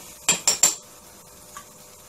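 A metal spoon scrapes and clinks three times in quick succession against a pan while ginger garlic masala fries for Mumbai street-style vada pav, followed by a softer tap and quiet sizzling in the background.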